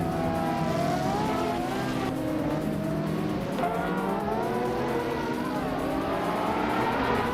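Several race cars launch off the line at Enna Pergusa in a racing video game, with the pole car a 2006 Ford GTX. Engines rev and drone together as gears climb, with occasional tire squeal.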